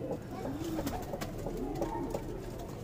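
Pigeons cooing steadily at a Delhi pigeon sale, a pale female bird among Madrasi and Punjabi pigeons; low rolling coos repeat through the clip against a constant background hum.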